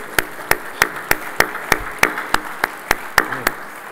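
Steady, evenly spaced claps ring out at a conference breakfast honoring a departing mayor, about a dozen sharp hand claps in a slow rhythm that sound like a few people rather than a full crowd.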